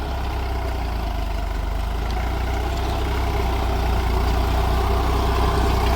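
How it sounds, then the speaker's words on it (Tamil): Tractor engine pulling a five-bottom plough through a field in low first gear at 540 RPM PTO, a steady loud low-pitched drone running continuously and close with no talk. "இப்போ 5 கலப்பை ஓட்டி போட்டு பார்த்தீங்கன்னா உழவு ஓட்டிகிட்டு இருக்கிறாங்க"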